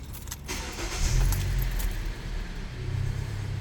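A Volvo or Hyundai car, just after a throttle body cleaning service, has its keys jangle before the engine cranks and starts, settling into a steady low idle hum, nearby and without talking.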